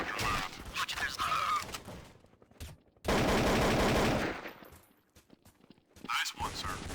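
Rapid automatic gunfire from Counter-Strike Source on the Dust 2 map, a loud sustained burst in the middle of the clip between shorter stretches of in-game radio voice chatter.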